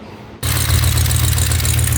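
A 1976 Plymouth Gran Fury station wagon engine catches and settles into a loud, steady idle with a throbbing low rumble and a hissing, ticking edge from an exhaust leak, heard up close with no voices.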